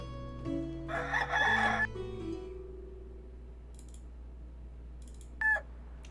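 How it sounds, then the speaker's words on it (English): A hen in the medieval village-life game Medieval Dynasty gives a loud crowing call near the start, with a few fainter clucks and a short sharp call later over a steady low game hum. "got another hen"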